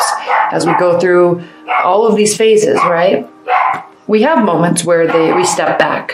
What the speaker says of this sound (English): Sorry about my dog. We have moments where I'm just going to let him bark